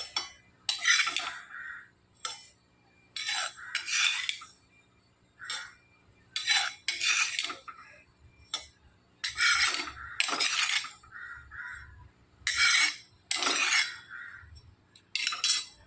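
Roasted sesame seeds are stirred and scraped from a pan into a bowl, giving repeated bursts of metallic scraping and light clinking with short pauses in between, fairly close and moderately loud.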